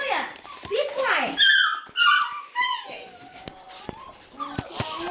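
Puppies whimpering and yipping indoors, high thin whines and soft yelps close by, mixed with talking.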